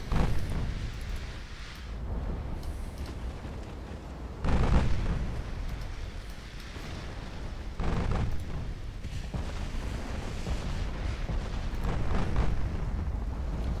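Heavy explosive booms from high explosive naval shells firing in a British classic campaign war game, a few deep blasts rolling into a continuous rumble of distant battle.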